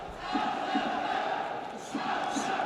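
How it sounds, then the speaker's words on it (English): Arena crowd at an MMA title fight in Krasnodar roars steadily throughout, a dense continuous wash of cheering with a few louder swells, no clear talk over it. "the crowd here in Krasnodar trying to put some wind in the sails of Kerefov"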